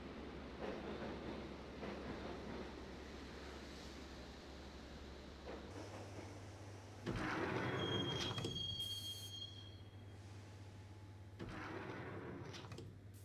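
A subway train in the video game Max Payne rumbles along with a steady low drone, rising into louder stretches of rattling and squealing wheels with a high metallic whine, alone without talk.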